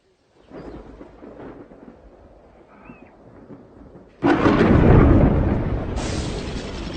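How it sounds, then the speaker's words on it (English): A thunderstorm over the African bush: low rumbling thunder rolls through the opening seconds, then a sudden loud crack breaks into a heavy, sustained roar that slowly eases but stays strong to the end. "The storm ignites the bush"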